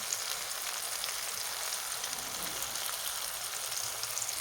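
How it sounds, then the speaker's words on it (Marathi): Spices sizzle in hot oil for a Marathi dal tempering, with onion-garlic masala stirred in. A steady, even frying hiss runs throughout at moderate loudness, with no talking. "आता छान मिक्स करून घेऊया तेलामध्ये छान परतून घ्यायचं आपल्याला अर्धा मिनटं"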